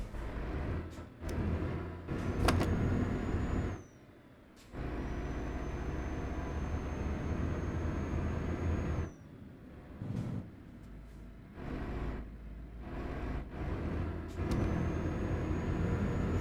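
Truck air brakes in Euro Truck Simulator 2, with several sharp hissing releases of air and short whistling tones, broken by brief quiet gaps over a continuous engine rumble.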